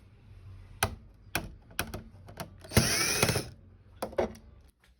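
A screwdriver works on the screw hidden under the warranty sticker of a Videocon 55-inch TV, giving a series of sharp, close mechanical clicks, a longer ratcheting burst in the middle, then a few more clicks, with no talking.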